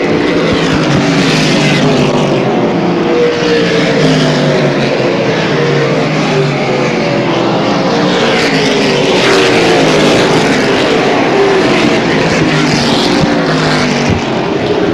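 Stock cars racing on an oval track at a 1999 event, several engines roaring loudly and continuously as the pack passes close by, with no talking.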